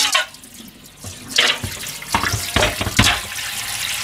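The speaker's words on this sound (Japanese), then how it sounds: "魚焼きを持ってきて洗ってあげましょう" Running tap water splashes over a fish grill as it is washed in a kitchen sink, with uneven bursts of spray and clattering metal against a steady water flow, no talk.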